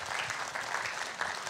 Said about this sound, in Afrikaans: Kan ons net vir oom weer eens 'n lekker hande klap gee?